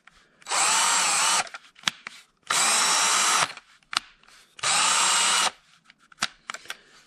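DeWalt DCD740 cordless drill with a 2-speed gearbox running in three loud bursts of about a second each, with its motor whine ramping up and settling on the squeezed trigger and short clicks in between.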